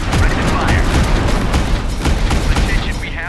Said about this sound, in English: Cannon ready to fire.